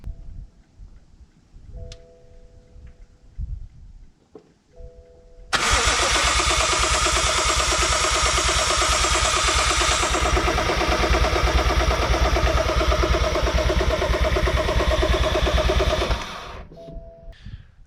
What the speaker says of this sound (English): we can try and start the car